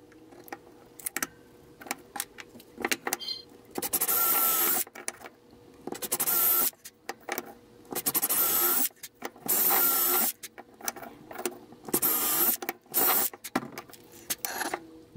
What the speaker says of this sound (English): Then I'll drill and countersink those in one shot.